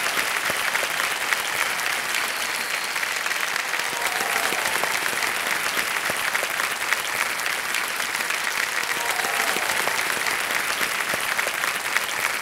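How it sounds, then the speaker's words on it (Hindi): A studio audience on the Indian quiz show Kaun Banega Crorepati breaks into loud, sustained applause, a dense wash of clapping that stays steady from start to finish. "जोरदार तालियां बज जाए इनके लिए"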